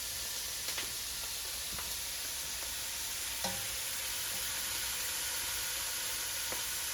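Onions sizzle and fry in a pan for a cabbage, noodle and kielbasa dish, giving a continuous soft hiss with occasional small pops and crackles, with no talk over it.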